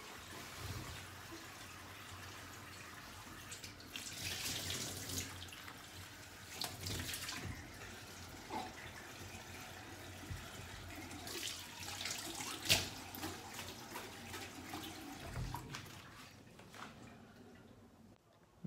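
Tap water runs steadily into a kitchen sink while dishes are washed by hand, a continuous splashing hiss with occasional clinks and louder surges, close and alone with no voices.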